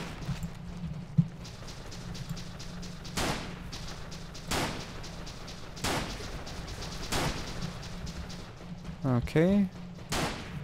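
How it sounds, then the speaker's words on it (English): An enemy fires on the player in the video game The Legend of Alfur, sharp gunshots cracking at spaced intervals over a steady background hum, with a voice speaking briefly. "why are you shooting at me? Yeah, he's shooting me."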